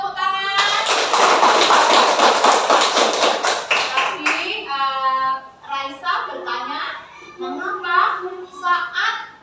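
A classroom full of children breaks into loud, close clapping for a student's presentation; the applause fades after a few seconds and children's voices follow.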